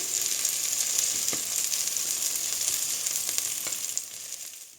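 Steady, close sizzling of prawns searing in a hot frying pan, a dense crackle that continues without pause and eases off slightly at the end.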